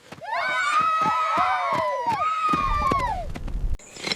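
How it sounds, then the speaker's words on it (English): Children run out shouting with joy in a prehistoric camp, several high voices overlapping in loud, excited screams close by, with a few footfall thumps. "Children ran out shouting with joy to welcome them."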